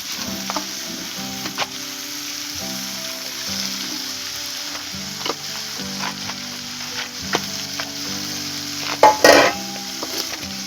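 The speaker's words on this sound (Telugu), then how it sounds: "గుమ్మడికాయ ముక్కలు వేస్తాను" Tender pumpkin pieces sizzle steadily in a pan for curry, a continuous frying hiss broken by clinks of a utensil against the pan and a sharper scrape near the end.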